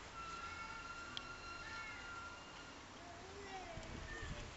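Faint, distant cat meows drifting in over a quiet outdoor background, with a voice talking nearby.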